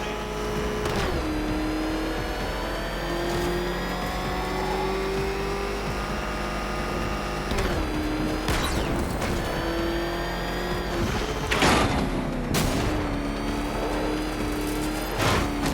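The Batmobile's engine in Batman: Arkham Knight races loudly and steadily, its pitch rising and dropping through repeated revs and shifts. Occasional sharp bursts and tire noise punctuate it.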